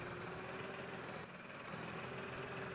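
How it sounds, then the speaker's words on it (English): A farm tractor engine idles and rumbles steadily in the video game Farm Expert 2017, a continuous low mechanical drone with a brief dip midway, no voices over it. "I'll stick with driving the tractor"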